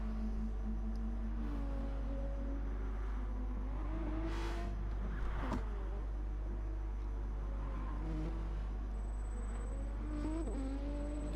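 Race cars on the Spa circuit rev and accelerate for several seconds, the engines rising and falling in pitch as they pull away, with one brief squeal against a steady low rumble.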